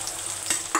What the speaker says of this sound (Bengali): চুলায় তেলটা গরম হয়ে গেছে। এখন আমি পেঁয়াজ কুচি ছেড়ে দিব।